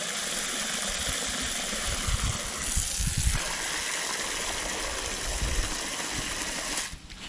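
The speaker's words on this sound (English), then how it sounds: "Just filling up this water out here." Water gushes steadily into a container outdoors, a continuous rushing pour with a low engine-like hum beneath, ending abruptly near the close, with chickens nearby.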